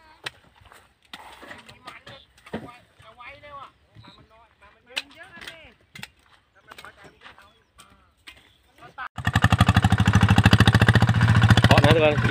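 After a stretch of talking, a ZT 155 motorcycle exhaust bursts into a loud, steady, throbbing engine run close by, filling the last few seconds.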